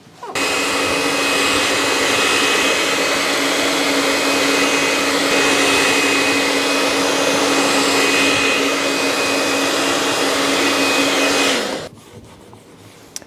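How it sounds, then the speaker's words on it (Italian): A hair dryer runs loud and steady for about eleven seconds, blowing hot air onto plastic during an old-trunk painting project, a continuous whooshing motor hum with a faint whine, then clicks off to near silence. "potete scaldare con il phon, come faccio adesso io"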